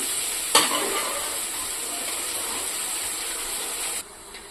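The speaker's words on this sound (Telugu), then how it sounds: "ఇప్పుడు ఈ ఆయిల్ అంతా పైకి వచ్చేంత వరకు మనము దీన్ని మంచిగా వేపుకోవాలండి." Mint leaves frying in hot oil for pudina rice, a steady bright sizzle close by with a sharp clatter near the start, then the sizzle abruptly drops quieter toward the end.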